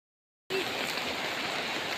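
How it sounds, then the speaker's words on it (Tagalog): Heavy rain pours at night during a day-long downpour, a dense steady hiss that starts suddenly after a moment of silence and continues evenly, with no talking. "alas 10:20 na po ng gabi at hindi pa rin po humuhupa yung ulan"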